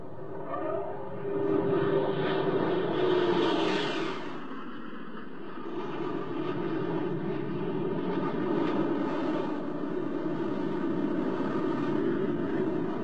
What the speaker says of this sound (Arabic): ها هي الطائرتان تهم بالدخول الآن